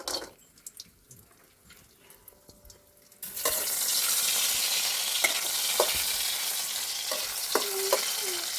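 Cashews frying in hot ghee for a sweet paayasam: after a quiet start, a loud steady sizzle erupts and holds, with occasional clinks and scrapes of a spoon stirring the nuts.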